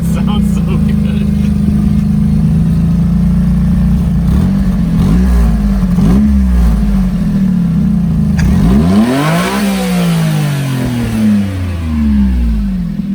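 A Honda Beat kei car engine revving up close: a steady mid-pitched idle, then several quick blips and one high-revving sweep before settling back, with people talking over it.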